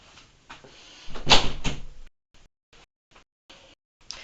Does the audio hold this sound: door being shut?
yes